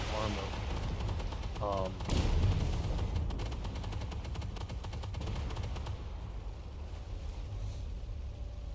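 Repeated 105 mm rifled tank cannon fire, the gun derived from the M68/L7, sounds in the Armored Warfare game from a Merkava Mk1. The shots come as dense, loud gunfire bursts under steady engine rumble while someone speaks over them.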